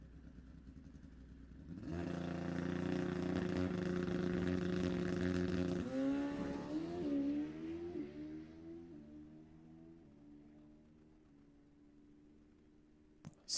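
A Morgan Racing Suzuki drag racing motorcycle launches about two seconds in with a loud, sustained high-revving engine roar, holds it for several seconds, then drops through gear changes and fades away into the distance at a drag race.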